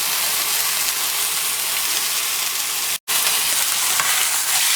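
Steak searing in a hot pan, a loud dense sizzle and crackle filling the whole stretch, broken by one brief cut of silence near the end.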